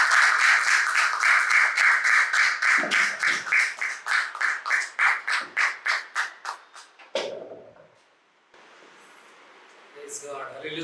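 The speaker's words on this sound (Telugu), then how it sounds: "గట్టిగా చప్పట్లు కొడతాం." A church congregation at a Telugu Christian service claps loudly in a steady, fast rhythm, dozens of regular beats that gradually soften and spread out before voices take over.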